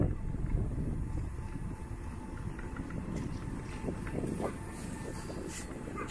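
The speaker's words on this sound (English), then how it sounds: "there goes the wind." Wind buffeting a microphone outdoors at a large retail site, a constant rough rumble with gusty swells and some distant traffic-like noise, no speech.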